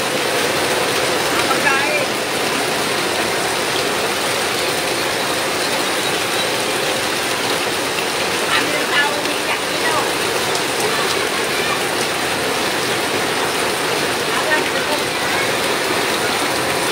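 Heavy typhoon rain falls without pause in a flooded neighborhood, a dense steady hiss drumming on surfaces from start to finish, with faint scattered clatter under it.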